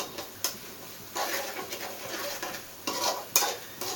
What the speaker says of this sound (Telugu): పచ్చి వాసన అంతా పోయేదాకా వేపుకొని అల్లం వెల్లుల్లి పేస్ట్